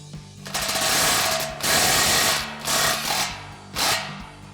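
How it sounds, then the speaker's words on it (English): An impact wrench with a 15 mm socket snugs down an exhaust clamp on a 2019-2024 Silverado or Sierra 1500, firing in four loud, close rattling bursts of hammering with short pauses between. "we're gonna grab our 15 mil socket on our impact, and we're just gonna snug this clamp down again"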